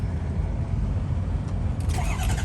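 A 2003 Ford Excursion diesel engine cranks and catches, a low rumbling churn near and steady that firms into a running clatter toward the end, with no voices.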